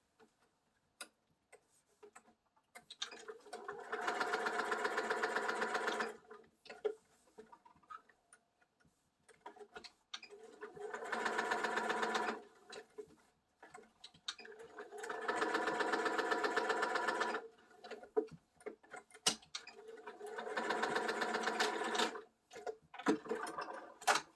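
A sewing machine stitches a tag into a romper, running in four steady bursts of rapid mechanical ticking, each a few seconds long, separated by short pauses filled with light handling noises.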